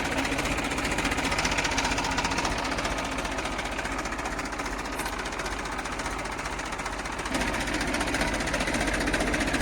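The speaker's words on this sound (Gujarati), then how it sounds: "ન્યૂ હોલેન્ડ બત્રીસ ત્રીસ એનએક્સ પ્લસ બેતાલીસ એચપી સિમસર એન્જિન" A New Holland 3230 NX Plus 42 HP tractor's diesel engine runs steadily throughout, a loud, continuous rumbling drone with a rapid mechanical knocking rhythm and no pauses.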